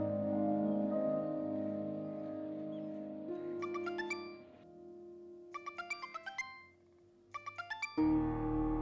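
A phone ringtone chimes in three bursts of bright, repeated tones over a steady background music bed in a drama scene, ending as a louder sound enters.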